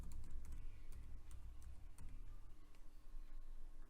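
A password goes in on a computer keyboard as a quick, irregular run of close key clicks and taps over a low background hum, with no one speaking.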